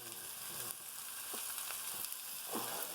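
Onions and garlic sauté in a hot pan, giving a steady, fairly faint sizzle with a few soft scrapes from stirring, heard alone without talk.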